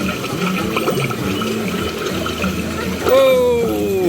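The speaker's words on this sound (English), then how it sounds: "The more you wave, the more action you'll get out of the water." Water at the interactive Journey of Water attraction gurgles and splashes continuously nearby, jumping more as hands wave over it, with a brief whistling tone near the end.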